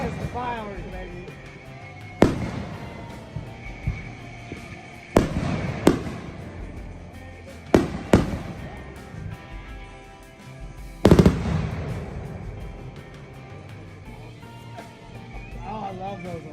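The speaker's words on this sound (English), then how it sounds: "Those is the fireworks, baby." Fireworks explode in a series of loud booms and crackling bursts spaced a few seconds apart, with lingering rumbles between them and people talking throughout.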